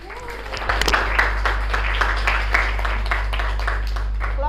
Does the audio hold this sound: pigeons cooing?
no